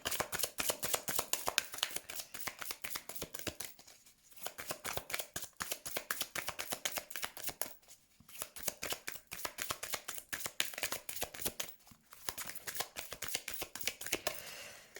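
A deck of cards being shuffled in three long bursts of rapid, crisp riffling flutters, each separated by a brief pause, close and fairly quiet with no talking.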